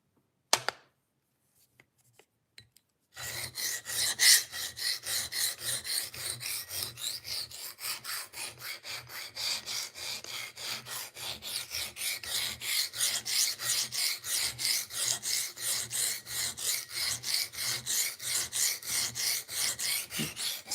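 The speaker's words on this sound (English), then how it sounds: "Since I'm sharpening to create a burr, I'm not worried about how many strokes I'm taking" Knife blade stroked back and forth on a diamond sharpening stone to raise a burr, a steady fast rasping scrape repeating in even rhythm, close and continuous after a few faint taps at the start.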